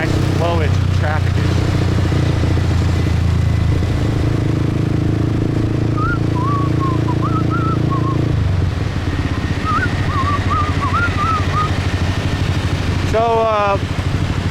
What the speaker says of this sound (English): Nice bit of traffic here. Nice flowage traffic.